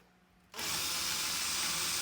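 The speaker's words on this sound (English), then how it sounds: "I'm gonna take just a smaller drill bit here and run a pilot hole" A small drill bit bores a pilot hole during a microwave installation, a loud steady whine that starts abruptly after a brief quiet moment and holds without letup.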